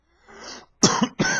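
Several close, loud coughs from one person, a softer throat-clearing rasp first, then two harsh hacking bursts in quick succession, with no talking.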